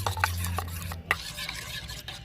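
A spoon stirs crushed naphthalene into a liquid, scraping and clinking against the container in a few quick, close strokes with short pauses between.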